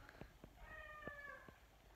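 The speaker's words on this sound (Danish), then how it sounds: "Og hvis I hører noget, der piver i baggrunden, så er det bare min kat, Findus" A house cat gives a faint squeaky meow in the background, a short rising-and-falling call over a low, steady room hum with a few soft thumps.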